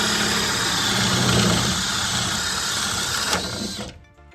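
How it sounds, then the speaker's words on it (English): Makita XPH14 cordless hammer drill in speed 2 boring a 1 1/4 inch paddle bit through a pressure-treated 4x4, a continuous loud whirring grind that holds steady and then cuts off abruptly at the end. "I will be shocked if this bit can go through this pressure treated 4x4 in speed 2."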